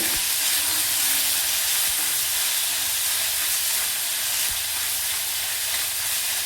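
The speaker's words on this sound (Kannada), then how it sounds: "ಈರುಳ್ಳಿನ ಚೆನ್ನಾಗಿ ಮಿಕ್ಸ್ ಮಾಡೋಣ" Finely chopped onion frying in a hot pan, a loud, steady hiss and sizzle throughout, with a few faint knocks of stirring and no talking.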